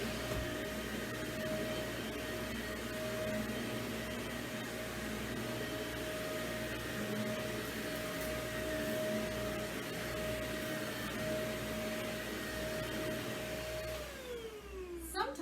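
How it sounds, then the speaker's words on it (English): A vacuum cleaner runs in a room, a loud, steady, close-up motor drone with a constant whine that winds down and falls in pitch near the end. "Let's keep vacuuming."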